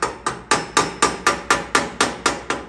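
A hammer chips slag off a flux core weld, striking eleven times in a steady, even rhythm at close range, each hit a sharp metallic crack with a short ringing decay.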